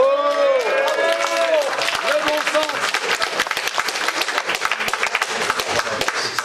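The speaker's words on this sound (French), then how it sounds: "C'est sympa de se faire applaudir" An audience at a public meeting about a wind-farm project in La Croix-en-Brie applauds the mayor. The clapping is loud and sustained and gradually thins out. A voice speaks over its start.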